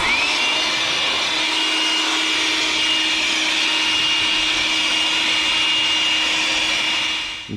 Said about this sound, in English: now the drying process with your blower. This could be a little loud